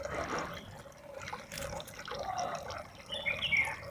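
Pond filter water flowing out into a garden bed, a steady close trickle and splash with small drip-like accents running throughout.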